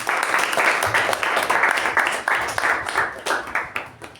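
Steady round of clapping from a small club meeting audience, close and rhythmic with individual claps audible, lasting the full few seconds without talk.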